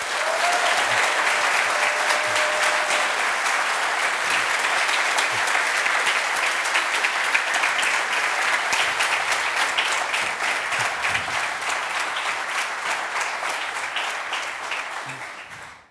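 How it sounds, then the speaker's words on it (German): A studio audience at a German sports talk show applauds a professional football player, with steady, loud, sustained clapping and cheering that gradually tapers off at the end. "Einen riesigen Applaus bitte für Johnny Burkhardt"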